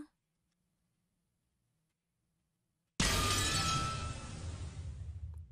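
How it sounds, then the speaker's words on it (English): Glass shatters violently as a sound effect in the visual novel Umineko: a sudden loud crash after about three seconds of near silence, followed by a bright scattering tail of tinkling shards that slowly fades. "There was a violent sound of glass breaking"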